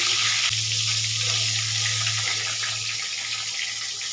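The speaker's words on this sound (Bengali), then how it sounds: "সব কটা বড় আমি এভাবে ভেজে নেব" Pieces of prawn frying in hot oil, a steady bright sizzle and crackle running continuously at close range with a low hum underneath and no talking.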